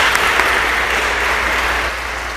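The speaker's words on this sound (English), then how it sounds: "A little clap to that." An audience claps at a school sports awards ceremony, a dense, steady burst of applause from a crowd that tapers slightly toward the end.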